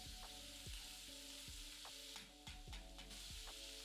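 Chopped onion, ginger, green chilli and curry leaves sautéing in a pan for a Kerala onion curry, a steady close sizzle with repeated scraping stirs of a spoon every half second or so, no talking.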